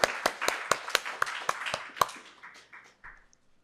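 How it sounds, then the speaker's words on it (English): Brief round of applause at a tech meetup in San Francisco, starting with a few loud, distinct claps in a quick rhythm, then thinning into scattered fading claps as it dies away. "let's give a round of applause to Solo"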